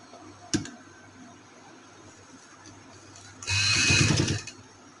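A sewing machine runs a short stitching burst through fabric with lace folded along the edge, a steady mechanical whir lasting about a second, close and fairly loud after a single sharp tap and low background hum.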